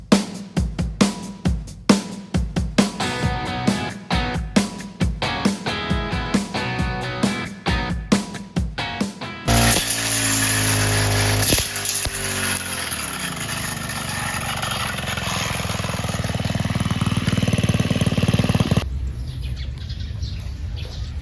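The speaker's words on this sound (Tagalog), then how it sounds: "tingnan natin kung ano nangyari sa talim ng bagong grass cutter natin" A new grass cutter runs with a steady mid-pitched engine drone after a stretch of choppy, pulsing bursts, staying loud and close before cutting off near the end; birds chirp faintly in the background.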